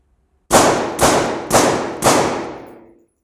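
Gunshots fired at two targets during a close-quarters combat shooting drill: four sharp, loud reports in an even, quick cadence, each decaying briefly before the next, then the last one trails off.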